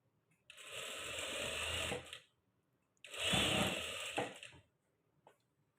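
A sewing machine stitches a cross piece onto the neck of a princess-cut blouse in two steady whirring bursts of about a second and a half each, close by, with short pauses between them.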